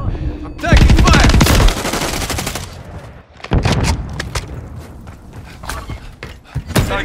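Gunfire in a Call of Duty MW3 Hardpoint match on the Sub Base map: a loud, sustained automatic burst leads, followed by scattered sharper shots and thuds. Voices come in between the bursts.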